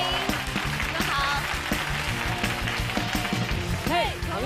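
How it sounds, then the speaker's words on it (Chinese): Audience applause welcoming a contestant onto the stage of a Chinese TV variety game show, a steady dense clapping wash throughout with a voice and music-like tones rising over it near the end. "掌声有请"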